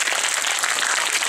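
An audience bursts into steady, dense applause, a wash of many hands clapping together for just over a second with no voices over it.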